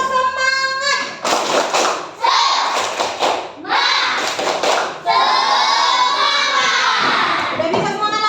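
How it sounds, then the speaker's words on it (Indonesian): A class of schoolchildren performs a rhythmic spirit clap, bursts of loud, close hand claps mixed with children's shouts and chanting that come in several rapid sections. "Tepuk semangat."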